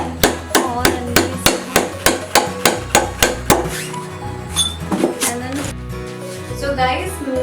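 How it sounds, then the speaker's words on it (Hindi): A stone hammers poles into a thermocol sheet for a DIY desk organiser, giving a steady run of about a dozen sharp, evenly spaced knocks close up. A voice talks after the hammering ends. "सो गाइस मैंने इन 3 पोल्स को ठोक दिया है इस थर्मोकोल पे"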